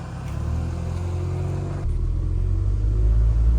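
A revived Scion xB idles and runs steadily, a low rumbling engine drone close by that grows slightly louder partway through, with no talking.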